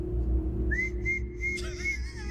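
A short, bright whistled tune in the style of Mickey Mouse from Steamboat Willie, a few rising and sustained notes over a low steady hum, with no talk.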